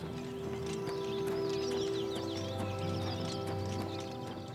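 A horse trotting in the video game Oblivion Remastered, its hooves clip-clopping in a steady rhythm over ambient game music and birdsong, moderately loud.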